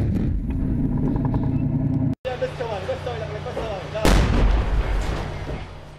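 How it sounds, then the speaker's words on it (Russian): A heavy T-72 tank cannon blast booms out loud, fired at buildings in Jobar, Syria, followed by a rumbling roll of echo and engine noise, with voices faintly underneath. "Второй танк бьет по зданиям с правого фланга"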